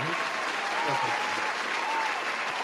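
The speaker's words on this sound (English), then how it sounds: "round of applause to her" Audience applause from a podcast crowd, a steady dense wash of clapping filling the whole stretch at even loudness, with faint voices mixed underneath.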